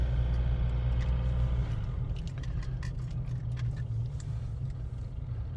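A Mitsubishi Pajero, fresh from a parking brake shoe replacement, drives along a road with a steady low engine and road rumble, loud and continuous, with faint small rattles above.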